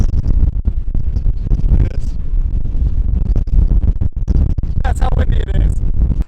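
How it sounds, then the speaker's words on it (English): Heavy wind buffets the microphone in a constant low roar on a hike in Joshua Tree National Park, with a person speaking briefly through the rumble. "It is so windy right here. That's how windy it is."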